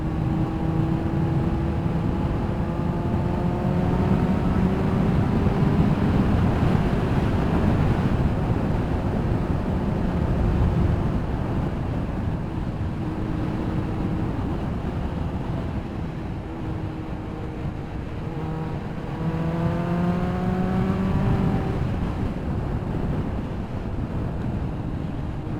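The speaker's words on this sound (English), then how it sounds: "The engine seems to be running lovely" A Kawasaki ZX9R motorcycle engine runs while riding, a steady loud drone with rising and falling revving tones, heavy wind rush over the microphone throughout.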